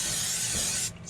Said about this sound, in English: spray to make it slick.